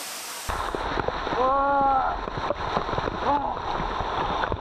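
Water rushes steadily at an emerald waterfall in Thailand, a broad continuous wash with voices exclaiming briefly over it.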